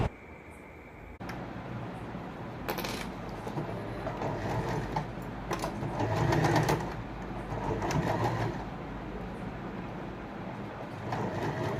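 A sewing machine stitches down the pleats on cotton-style dhoti fabric for a child's garment, giving a steady mechanical whirring that swells and eases in short runs over a noisy room background.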